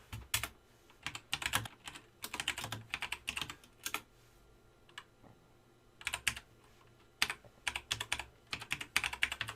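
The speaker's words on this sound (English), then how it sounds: "just type in a few different keywords" Keywords typed on a computer keyboard, with close, crisp key clicks arriving in quick bursts separated by brief pauses, alone and without talk.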